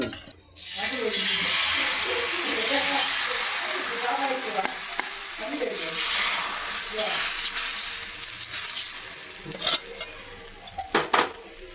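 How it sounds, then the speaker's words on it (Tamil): Wheat flour dosa batter poured onto a hot pan, giving a steady broadband sizzle with a few clanks of a ladle or pan near the end. "மாவு நல்லா ஊற்ற போகிறேன். கோதுமை தோசை"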